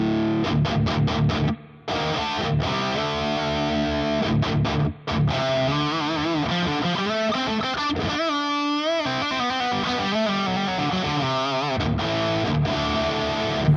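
Electric guitar run through a Positive Grid Bias X plexi-style amp sim with reverb set to an arena rock tone, loud distorted chords and sustained bends with brief pauses, played alone.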